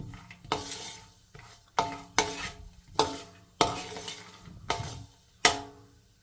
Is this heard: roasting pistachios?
yes